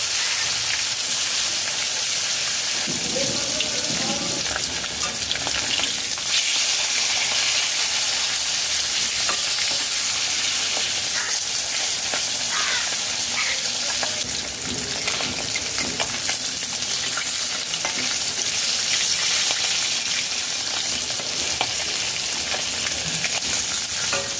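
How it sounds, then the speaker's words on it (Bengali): Snakehead fish fries in hot mustard oil over low to medium flame with a steady, loud crackling sizzle that hardly lets up, broken now and then by soft stirring sounds. "লো টু মিডিয়াম ফ্লেমে 5 মিনিট মাছ উল্টে পাল্টে ভেজে নিয়েছি"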